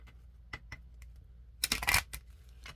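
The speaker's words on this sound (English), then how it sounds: "Let's shuffle these cards." Tarot cards being shuffled by hand, a few soft scattered riffles followed by a denser burst of rapid card flutter near the end, close and fairly quiet with no voices.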